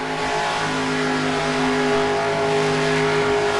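Race car engines roar steadily in NASCAR Racing 2003, a loud, sustained drone of several cars running at full speed on the Ontario track, with a constant tonal hum that stays even throughout and has no voices over it.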